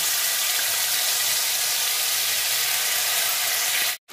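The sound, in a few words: ginger, cumin and green chilli paste frying in oil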